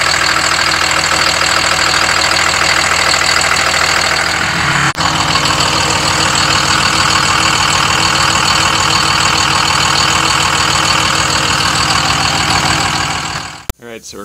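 A loud 5.9 Cummins diesel engine in a 2005 Dodge Ram 2500 idles steadily with a rough, knocking rumble close by, showing blow-by, running continuously until it cuts off abruptly near the end.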